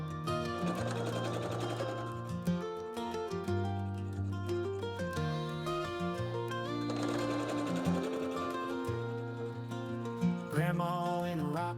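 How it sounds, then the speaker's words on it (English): Sewing machine stitching pieced quilt block units together for a barn star quilt block, running in several close bursts of rapid mechanical whirring separated by brief pauses, with no talking. "we are going to stitch them together like this"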